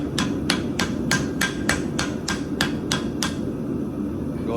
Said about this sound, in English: I'll go ahead and lightly tap just to close any gaps that are in